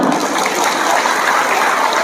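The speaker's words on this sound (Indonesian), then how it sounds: "Tepuk tangan." An audience at an Indonesian religious gathering claps together in a loud, dense, continuous burst that holds steady throughout, with no voices heard over it.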